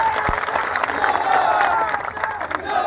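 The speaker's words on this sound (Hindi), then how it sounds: "एक बार जोरदार तालियां उनके लिए" A crowd at a political mahapanchayat meeting applauds and cheers in a loud, dense wash of clapping and voices that carries on throughout.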